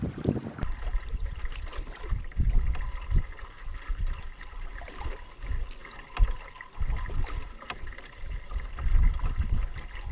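Canoe paddles dip and pull through calm lake water among lily pads in a grassy bay, with soft irregular splashes and gurgles close by, steady low water and wind noise throughout, and no talking.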